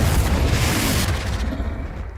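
A Confringo spell explosion in a Harry Potter video game, a loud, deep rumbling boom that fills the clip and slowly fades out.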